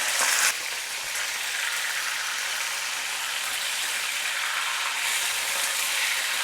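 Half a kilo of washed chicken pieces frying in hot oil, a loud, continuous bright sizzle that holds steady throughout, close by with no talk.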